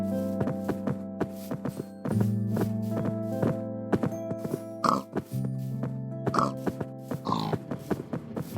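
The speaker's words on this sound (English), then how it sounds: "Pigs keep up pretty well." Pigs in the Minecraft Feed the Beast modpack grunt and oink repeatedly, several snorts rising over a steady droning game tone, fairly close and clear with no talking.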